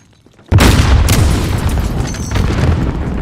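Heavy boom from a sniper rifle shot during an esports match of a shooter game, a sudden loud blast after near silence that leaves a dense, sustained roar of rumbling game noise.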